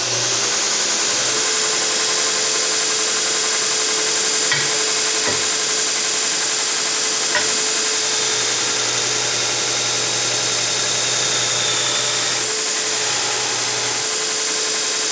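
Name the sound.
TW-90 belt grinder grinding 1/4-inch mild steel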